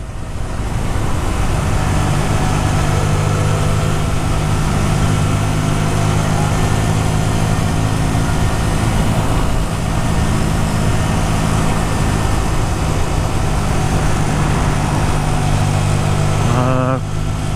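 A Hyosung Aquila 125cc motorbike engine drones loud and sustained at speed, with a steady strained buzz under wind noise, easing off near the end while a rider talks over it.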